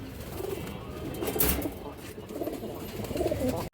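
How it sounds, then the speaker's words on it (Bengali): Fancy old-breed pigeons coo softly and low in a pigeon seller's setting, half-buried in steady background noise and murmur throughout. "কবুতরটা দেখেন একটু খুব সুন্দর একটা কবুতর"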